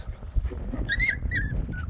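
High, thin whimpers and squeaks of young puppies rise briefly over a low rumbling background, a few soft cries close together.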